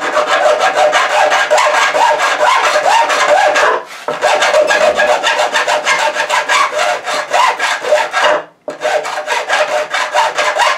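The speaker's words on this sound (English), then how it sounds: "tap your file to keep the filings out of it. And you can hear it as it flushes off" A file rasps steadily across guitar frets during leveling, in fast, even back-and-forth strokes with two brief pauses, loud and close with no voices.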